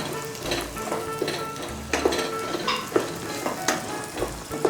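Chopped onions sizzle and fry steadily in a pan alongside peas, with scattered stirring scrapes and clicks over a constant crackling hiss, close and fairly loud, no talking.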